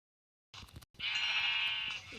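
A sheep in a video game gives one loud, nasal, wavering bleat lasting about a second, just after a brief soft noise.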